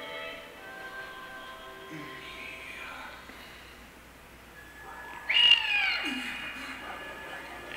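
A cat in the video game .hack//G.U. Last Recode gives a drawn-out, wavering meow that rises to a louder peak near the end, over soft background music.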